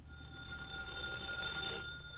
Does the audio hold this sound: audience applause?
no